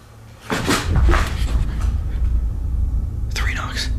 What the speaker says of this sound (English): Three knocks.